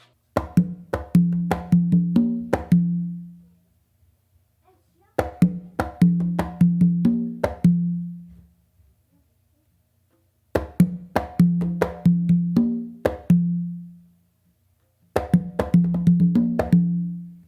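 Conga drums play a repeating syncopated guaguanco pattern of open tones and slaps in three or four phrases, with short pauses between each, close and clear.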